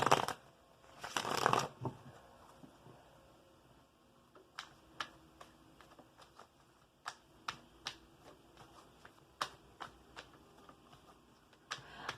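Tarot cards shuffled and drawn for a reading: a burst of riffling shuffles at the start, then a long run of soft, scattered card taps and snaps, close and fairly quiet with no talking.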